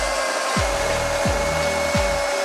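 A Milwaukee M18 FCHS Fuel battery chainsaw runs steadily with a high, even whine while cutting soggy-barked wood, and three deeper thuds of the chain biting or the log shifting come through at regular intervals.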